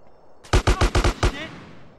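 Gunfire in GTA: San Andreas rings out as a quick burst of six loud, evenly spaced shots within under a second, close and punchy, followed by a short fading tail.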